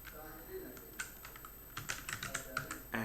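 Rapid clicking of computer keyboard keys as a domain name is typed, an irregular burst of close keystrokes over faint background noise.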